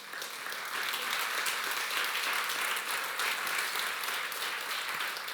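A church congregation applauding, a steady, fairly soft wash of many hands clapping that continues evenly throughout.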